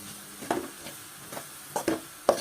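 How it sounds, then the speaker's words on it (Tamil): Egg being stirred with pepper powder in a frying pan for fried rice, with a few soft scraping stirs over a faint sizzle, no talking. "தேவையான அளவுக்கு மிளகுத்தூள் சேர்த்து நல்லா கிளறி விட்டுருங்க."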